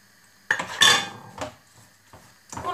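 A spatula presses and scrapes eggplant with parsley in a metal pan for a Moroccan cooked salad, giving a few loud clanks and scrapes in separate bursts with short pauses between them, and no talking.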